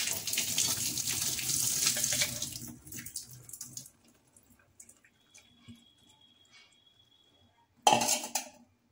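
Boiled banana flower is drained of its bitter water at a kitchen sink, a loud pouring and splashing rush for about three seconds, then quiet clinks and drips, and a final short burst of running water near the end.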